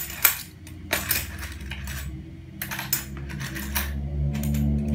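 Dutch East Indies cent coins are handled and dropped, giving a few sharp metallic clinks and jingles spread over several seconds above a low background hum.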